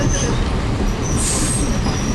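A South Simcoe Railway diesel excursion train rolls along near Tottenham, Ontario, with a steady low rumble of wheels on track and a thin high squeal from the wheels rising briefly, heard from aboard the passenger cars.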